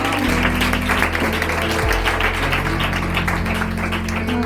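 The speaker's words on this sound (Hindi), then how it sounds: "हम ताली बजाकर उनका स्वागत और अभिनंदन" Applause at a church worship gathering welcomes someone speaker to the front, a dense, steady clapping from a crowd lasting several seconds with a low musical hum underneath.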